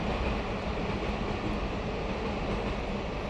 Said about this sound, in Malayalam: രാവിലെ ട്രെയിൻ പോകുന്നു.